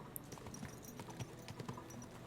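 Horse hooves clop at a walk in the video game Kingdom Come: Deliverance II, a quiet, irregular series of close footfalls with no talk.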